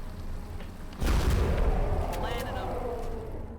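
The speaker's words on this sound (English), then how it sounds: "let's simply fire again" A heavy weapon shot booms out in the XCOM: Enemy Within video game. It bursts in loudly after a quiet lead-in and then rumbles and decays for a couple of seconds.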